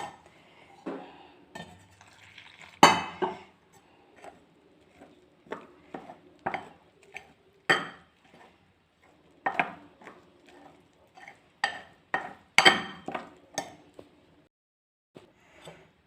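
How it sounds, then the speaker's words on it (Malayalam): A spoon stirs gram flour with plain water into a batter, clinking against the bowl in short, irregular bursts separated by quiet gaps. "പച്ചവെള്ളം ഒഴിച്ച് കലക്കിയെടുക്കാം മാവിൻ്റെ രൂപത്തിൽ കലക്കിയെടുക്കാം"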